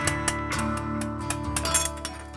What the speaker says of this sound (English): The twinkling chime of glass welcomes you as you enter the studio down by the Trent River.